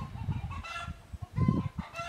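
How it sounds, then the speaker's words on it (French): Laying hens cluck nearby in short, repeated bursts, a busy cackling chorus with a few brief pauses. "il y a les poules qui recommencent à chanter"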